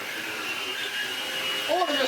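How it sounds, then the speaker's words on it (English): A cordless vacuum cleaner's powerhead runs steadily on carpet with a loud, constant motor whine and brush hum, nearby and continuous, with a slight rise in pitch near the end. "For the carpet, we can spice things right up and fit something like this, our cordless vac powerhead"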